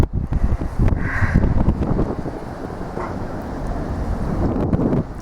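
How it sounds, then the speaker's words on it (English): Strong wind buffets the microphone on a sea cliff top, loud and gusty throughout, with rumbling blasts rising and easing and no voices. "It's quite windy."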